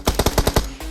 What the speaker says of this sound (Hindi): ये हम पे गोली चलाता है